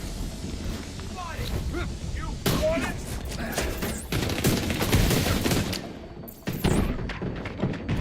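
Heavy gunfire in a video game, rapid bursts and thudding impacts close and loud, with excited voices talking over the shooting and short breaks between volleys.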